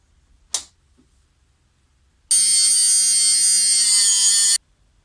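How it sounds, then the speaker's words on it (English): An angle grinder cuts off the protruding ends of steel bolts for a 3D printer enclosure: one sharp clank, then a steady, loud whine lasting about two seconds before stopping abruptly. "So I'm gonna go grind these off now and make shorter bolts out of them."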